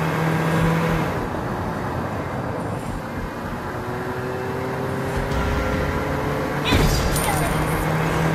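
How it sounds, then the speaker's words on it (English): Johnson's car in the video game Mobile Legends, a continuous vehicle engine rumble with a rising hum as it speeds up, with game effects and a brief sharp hit near the end. "Hold tight, I'm stepping on the gas."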